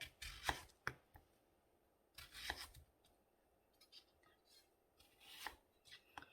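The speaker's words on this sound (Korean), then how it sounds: "요거를 그대로 칼도마에 넣으시고 썰어주시면 돼요" Knife slicing halved, pitted peaches into thick pieces on a cutting board, heard as a few sharp, close chopping thuds with light scraping between them.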